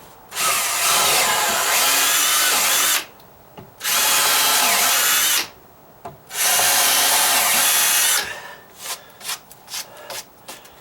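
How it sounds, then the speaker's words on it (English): A power drill bores a pilot hole in wood for a deck column repair, three loud sustained runs separated by short pauses, then a series of brief bursts and rattles. "it's just a pilot hole, and okay, I'll do it"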